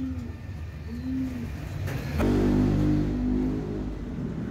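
Racing pigeons coo softly in a couple of low, rolling calls as they arrive at the loft, with a steady outdoor rumble that swells partway through.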